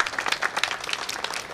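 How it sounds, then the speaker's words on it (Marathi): An audience bursts into loud, dense applause, many hands clapping at once in a continuous close wash of claps. "जोरदार टाळ्या होऊन जाऊ दे साहेबांसाठी."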